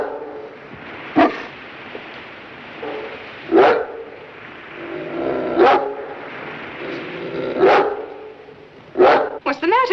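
A dog barks in single sharp bursts spaced a couple of seconds apart, five or six in all, the last ones coming quicker, with people talking in between.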